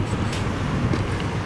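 A passenger train rolls through downtown Hollywood in South Florida with a loud, steady rumble and rail noise throughout.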